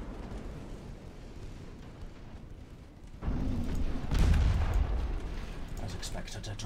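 A torpedo strikes a ship in the naval game Ultimate Admiral Dreadnoughts, a heavy muffled boom that swells midway over a low rumbling battle background and then rolls off slowly.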